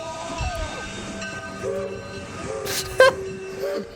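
Train rumbling past with a loud horn blast and bright whistle-like tones, a sharp clack near the end, no voices over it.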